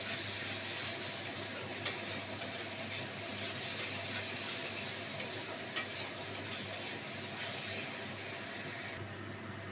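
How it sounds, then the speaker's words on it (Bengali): Spices fry in a pan while being stirred, a quiet continuous sizzle broken by a few sharp scrapes and clinks of a utensil against the pan, with no voices. "মশলাটা ভাজা হয়ে এসছে"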